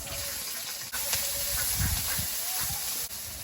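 Five-spice, grated ginger, green chilli and onion sizzle in hot fish-frying oil in a kadai, a steady close hiss with crackling spatters throughout, a few soft low bumps underneath.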